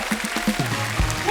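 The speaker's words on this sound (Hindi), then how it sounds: "खैर, उदित जी के लिए जोरदार तालियां हो जाए।" Studio audience of a comedy talk show applauds, a brief burst of clapping mixed with voices and music-like tones.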